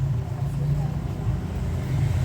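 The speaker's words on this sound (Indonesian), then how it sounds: "Dan pembuangannya, motor drainnya itu membuka." A washing machine's drain motor opens during the spin cycle, giving a steady, close, low electric hum that holds evenly throughout without breaks.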